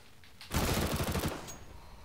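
Rapid automatic gunfire in the video game CS:GO, a dense burst of shots lasting under a second after a quiet start, loud and close, followed by lingering noise.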